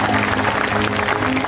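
A concert audience gives a young child performer loud, continuous applause, a dense, even patter of many hands close by throughout, with no talking.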